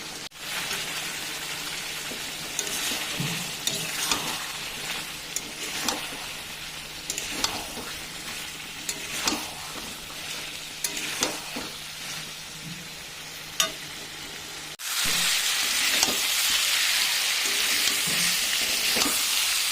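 Meat fries in oil with meat masala while being stirred, a steady close sizzle broken by repeated scraping strokes of a spoon. Near the end the frying turns louder and brighter and carries on without talk.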